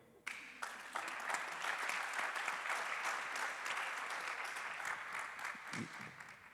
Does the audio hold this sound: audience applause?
yes